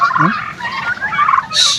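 Sick turkeys recovering from fowl pox gobble close by in a quick burst of warbling calls, ending with a sharper, higher call.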